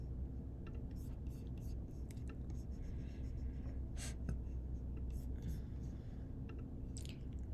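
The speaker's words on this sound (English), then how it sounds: "Let me write that down one more time." Pen scratching across paper while notes on blood vessels are written down, quiet irregular strokes close by over a low background hum, with soft talk in between.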